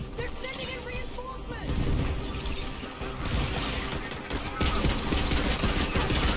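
Borderlands 3 gunfire landing headshots, dense rapid automatic fire with mechanical clatter and impacts, continuous and loud, with a voice briefly heard under the shooting.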